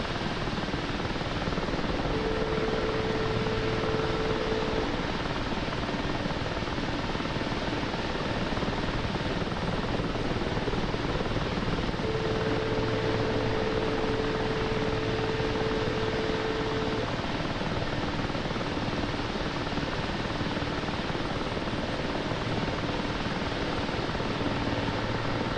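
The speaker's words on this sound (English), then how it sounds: "The Mi-8 is one of my favorite helicopters to fly because it is just unbelievably maneuverable for how big of an aircraft it is." Mi-8 helicopter flying in the DCS combat flight simulator: a continuous dense rotor and turbine roar, loud and unbroken, heard from inside the aircraft with faint steady tonal whines underneath.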